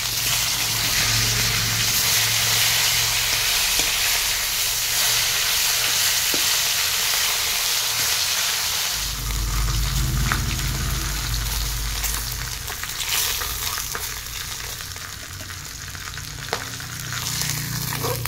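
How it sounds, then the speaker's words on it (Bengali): Fish pieces fry in mustard oil in a wok, giving a steady loud sizzle that swells partway through as more pieces go in, with scattered pops and utensil taps. "কড়াইটা গরম হতে পরিমাণ মতো সরিষার তেল দিয়ে মাছগুলো এক এক করে ভেজে নিব"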